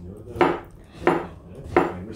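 A knife chops food into small pieces on a board while cooking, three distinct, evenly spaced, close thuds with clear pauses between them.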